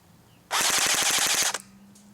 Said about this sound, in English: Now let's see how fast this gun fires off its included battery.